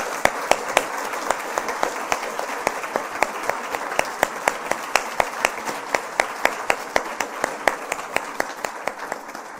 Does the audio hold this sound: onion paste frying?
no